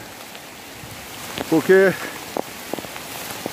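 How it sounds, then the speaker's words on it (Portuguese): Heavy rain pours down on a campsite during a storm with a threat of a waterspout. A steady, even patter of rain on surfaces runs throughout, while someone speaks briefly in the middle. "a chuva está muito intensa"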